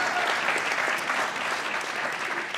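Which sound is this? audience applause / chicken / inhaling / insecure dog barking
audience applause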